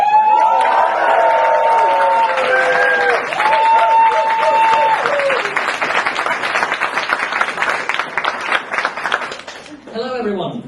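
An audience at a Nordic Larp Talks 2016 presentation bursts into cheering and applause, with sustained loud clapping, whoops and a few high shouts that fade toward the end.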